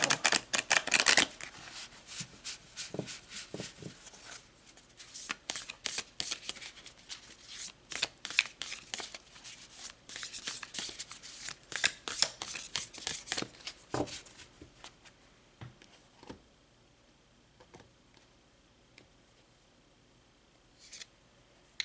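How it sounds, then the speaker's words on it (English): A deck of tarot cards is shuffled close by in quick riffling bursts and soft flicks, busier at first and thinning toward the end, with no talking. "So let's pull some tarot."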